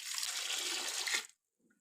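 Water pours into a pressure cooker for chicken shami kabab, a loud continuous splashing rush that stops abruptly after about a second and a quarter, followed by faint clinks.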